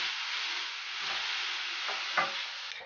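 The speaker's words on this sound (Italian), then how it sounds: "la facciamo insaporire per bene in padella, aggiungiamo un goccio di vino" Meat for olive all'ascolana sizzles steadily in a frying pan as wine is added, a bright, close hiss with a couple of brief louder spits near the end.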